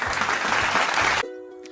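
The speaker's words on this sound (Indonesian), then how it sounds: "Ya, beri tepuk tangan kepada kelompok 2." A class applauds a student group after its presentation, a thick, lively burst of many hands clapping that cuts off abruptly after about a second, leaving a faint electronic tone.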